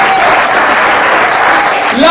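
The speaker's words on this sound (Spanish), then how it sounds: "Denle un fuerte aplauso a Cristo." A church congregation claps and applauds, a dense steady wash of clapping that fills the whole clip, close and loud, with no gaps.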